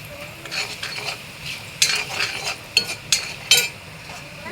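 Cumin and fenugreek seeds are added to a hot pan and fried, with a soft sizzle under repeated stirring and several sharp clinks of a metal utensil against the pan.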